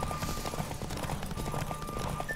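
Steady clip-clop of horse hooves at a fast gallop in The Witcher 3: Wild Hunt video game, with a faint whinny over a constant background hum.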